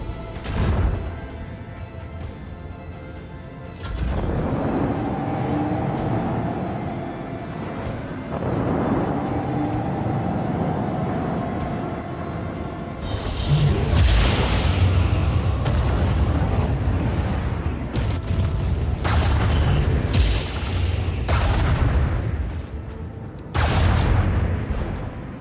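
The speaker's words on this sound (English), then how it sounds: "I want to hear the macro cannons roar!" Macro cannons firing in the video game Warhammer 40k Rogue Trader: heavy booming blasts and crashing impacts, loud and sustained, swelling in several waves with sharp bursts near the end.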